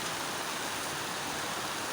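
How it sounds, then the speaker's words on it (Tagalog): Steady, dense hiss of rain pouring down, constant and even throughout with no voices. "Ulan."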